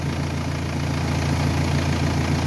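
Car engine idling steadily and close by during an alternator test, a constant low hum with a firm mid-range drone and no gaps.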